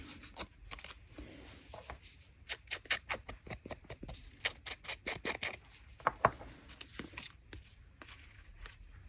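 Paper is torn for a junk journal in a run of quick, rasping rips, some short bursts and some longer tears, close and fairly quiet with brief pauses between.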